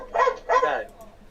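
A dog barks twice in quick succession, fairly close and clear, with a faint trailing sound afterward.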